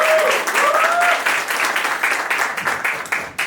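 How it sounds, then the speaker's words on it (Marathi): At a Marathi talent show, an audience claps for a contestant in a brisk burst of applause that gradually thins out, with a few voices and whistles over the clapping. "चांगला होता सौरभ साठी टाळ्या एकदा"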